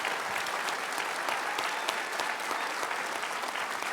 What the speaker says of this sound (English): So give them a big round of applause for that.